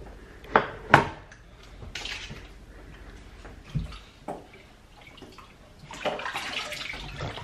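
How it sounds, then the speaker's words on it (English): Water splashing as a small child is bathed in a tub, with sharp irregular splashes and sloshes, a couple of loud slaps early on and softer dripping and swishing in between. "so I just decided to give her a bath."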